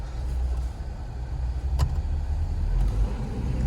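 A Volvo 240DL car drives along with a steady low engine drone and road rumble, close and fairly loud, with a faint click partway through.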